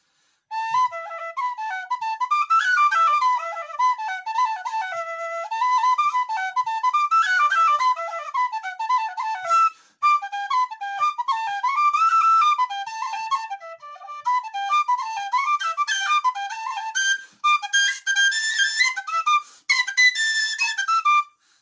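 A cheap tin whistle plays a lively, shrill melody up close, with a few short breaks between phrases and a harsher, raspier tone on the highest notes.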